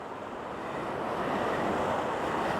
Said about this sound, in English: Oh, and there's moving water.